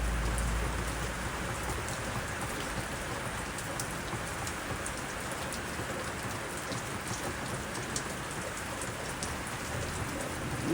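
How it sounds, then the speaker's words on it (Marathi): Heavy rain pours down steadily over a village, a dense continuous hiss of drops at an even level for the whole stretch, with no voices. "पाऊस आता चालू झाला"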